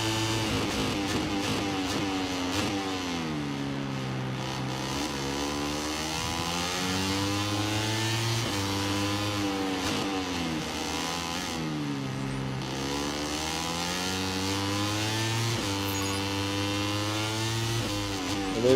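Motorcycle engines race in the MotoGP 26 video game, a continuous buzzing roar that repeatedly revs up and drops as gears change, steady and fairly loud throughout.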